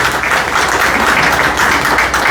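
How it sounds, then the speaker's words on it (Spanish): Loud, dense applause from an audience greeting a speaker at a legal lecture, a continuous close wash of clapping throughout with no pauses. "le pido un fuerte aplauso en gratitud por estar el día de hoy con nosotros"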